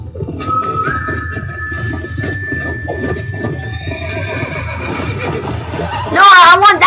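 A horse whinnies in a long, high neigh over background noise and chatter in Red Dead Redemption, then a louder, shrill burst near the end.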